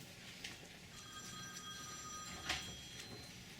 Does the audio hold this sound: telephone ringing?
yes